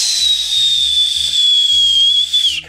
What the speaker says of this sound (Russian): Человек, который умеет свистеть таким вот образом